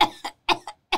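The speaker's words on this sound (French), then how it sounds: "elle a fait me tousser" Several short, dry coughs from one person come in quick pairs with brief gaps between them, loud and close.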